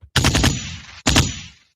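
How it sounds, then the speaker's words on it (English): Gunshot sound effect: a loud rapid burst of several shots followed by a single blast about a second later, each with a fading echoing tail. "So we're gonna have a gunshot."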